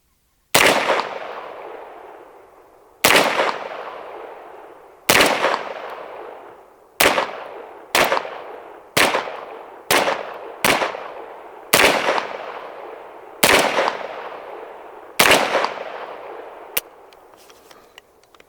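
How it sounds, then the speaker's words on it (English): A Geforce Blade pistol caliber carbine fires at target dots with Winchester white box ammo: about a dozen sharp, loud shots at irregular spacing, each with a short ringing decay, close up and without talking. "I'm gonna go ahead and shoot a couple different target dots to see what kind of groups"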